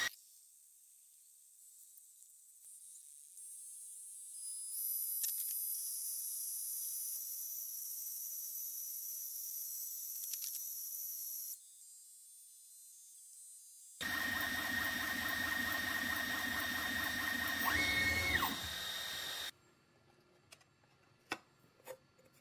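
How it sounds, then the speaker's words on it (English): AlgoLaser Alpha 22W laser engraver working birch plywood: a steady high whine and fan hum run through most of the stretch, then a louder busy buzzing burst of gantry motion, ending in sparse faint clicks. "Next, I tested engraving on birch plywood using the same material test tool in light burn."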